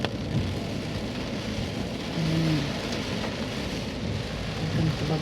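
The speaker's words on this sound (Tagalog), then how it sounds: "Tapos ang lakas pa ng ulan." Heavy rain pours steadily on a foggy road in Baguio, a dense constant hiss with low rumble and passing traffic mixed in.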